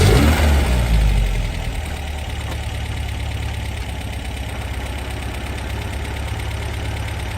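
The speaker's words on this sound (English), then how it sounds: "First we'll start it and we'll take a listen to the engine and hear the exhaust note as well" A carbureted 1971 MG MGB with a manual gearbox fires up with a loud revving burst, then settles into a steady, throbbing idle that continues close and even.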